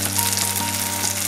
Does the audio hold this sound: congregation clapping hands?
no